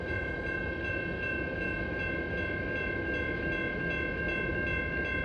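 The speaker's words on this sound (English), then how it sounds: "Alright, there's the end of the train." A long train rolls through a railroad crossing as its last cars pass, a steady loud rumble carrying sustained ringing tones throughout.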